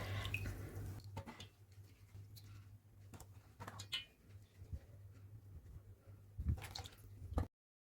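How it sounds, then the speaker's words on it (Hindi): Wet squishing and sloshing of mushrooms being rubbed in warm water, with soft drips and splashes, close up and steady for several seconds. "एक एक मशरूम को इस तरह से मलते हुए अच्छे से धुलेंगे"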